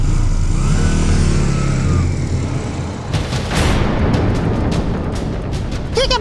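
A motorbike pulls away on a city street outside a college, its engine rumbling and then surging as it accelerates off, with a burst of louder road noise partway through and no talk over it.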